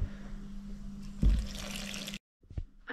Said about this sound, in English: Now we pour in the yeast water.